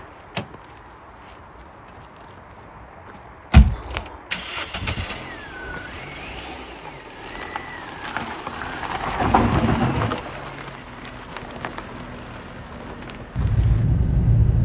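A Vauxhall Astra Bertone engine catches with a sharp start, settles into a low idle under a steady hiss, then swells into a louder rumble as the car pulls away.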